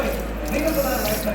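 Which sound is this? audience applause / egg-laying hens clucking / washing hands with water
washing hands with water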